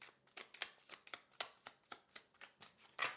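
A tarot card deck being shuffled, a rapid run of crisp riffling flutters and slaps in quick succession, close and clear with no talking.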